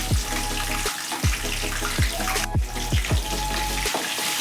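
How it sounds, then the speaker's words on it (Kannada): Garlic fries in hot oil for palak dal, alongside dried red chillies and fresh curry leaves. It makes a steady, close sizzle with repeated sharp spitting pops throughout. "ಬೆಳ್ಳುಳ್ಳಿ ಗೋಲ್ಡನ್ ಬ್ರೌನ್ ಆಗೋ ತನಕ ಫ್ರೈ ಮಾಡ್ಕೋಬೇಕು"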